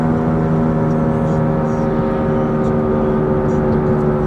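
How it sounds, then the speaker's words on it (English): A Scion tC driving with a bad right front wheel bearing, a loud steady whirring drone with a propeller-like hum that holds constant, heard from inside the moving car with possible speech underneath. "the afternoon crew's Scion TC sounds like there's a biplane following it around everywhere"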